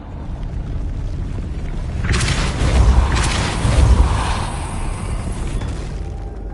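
A Depulso force spell cast in Hogwarts Legacy: a rumbling whoosh with a low booming surge that swells in the middle, then fades back into a steady ambient hum.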